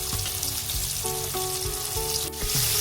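Chicken popcorn frying in oil in a wok over medium heat, a steady close sizzle with bursts of crackle and occasional clatter of stirring, no talk.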